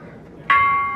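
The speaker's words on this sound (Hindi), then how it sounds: "इसमें सेंसर लगा हुआ है, जब आप पास जाते हैं तो घंटा बजने लग जाता है।" A bell at the Kyoto Railway Museum, set off by a proximity sensor, strikes once partway through and rings on with a steady, bright sustained tone after a murmur of low background noise.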